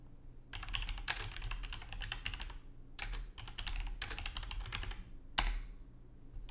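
Dense, steady typing on a computer keyboard as a prompt is entered for a locally run language model, close and fairly quiet, with short pauses between bursts and no talk.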